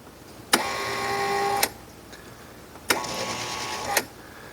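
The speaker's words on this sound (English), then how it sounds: "it will run the squeegee motor up and down." Squeegee motor on a Kustodian Plus bowling lane machine running the squeegee up and down, two loud mechanical whirring runs of about a second each, separated by a short pause, with a faint click between them.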